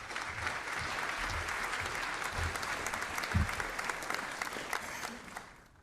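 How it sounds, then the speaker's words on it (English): An audience at a space technology investment announcement applauds a business development VP, steady moderate clapping from many hands with a few louder near claps, tapering off and fading out at the end. "Please give him a round of applause."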